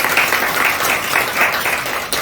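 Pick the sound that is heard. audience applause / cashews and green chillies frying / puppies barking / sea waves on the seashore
audience applause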